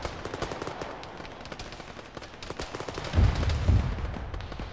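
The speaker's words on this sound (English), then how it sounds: "second story, there's a machine gun in there." A machine gun fires in the Arma military video game, rapid bursts of sharp gunshots with heavier, louder reports near the end, sounding at middling distance with no talk.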